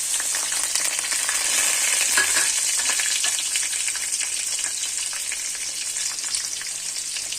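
Onions frying in oil in a pan with peanuts for upma, a dense, continuous, even sizzle up close with faint stirring, no talking.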